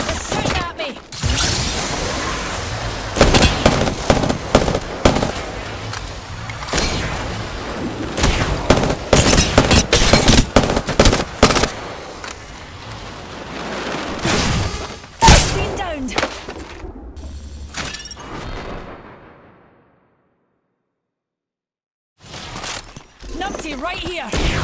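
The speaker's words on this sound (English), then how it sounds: "They're shooting at me." Gunfire in an Apex Legends match: dense bursts of rapid automatic shots and heavy single reports, loud and close, with mechanical clatter, breaking off into a short silence near the end before shooting resumes.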